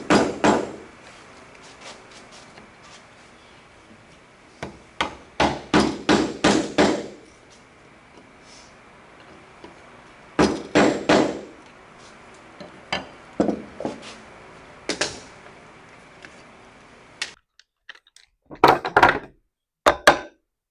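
A mallet strikes a chisel cutting hand-made wooden dovetails, with sharp knocks coming in quick bursts of several blows separated by pauses, close and loud with no talk.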